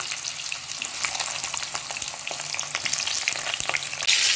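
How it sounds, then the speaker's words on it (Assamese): Food frying in oil in a pan until lightly browned, a continuous close sizzle broken by scattered stirring clicks and scrapes, with a louder clatter right at the end and no talking. "অলপ ৰঙচুৱা হোৱালৈকে ভাজি লওঁ।"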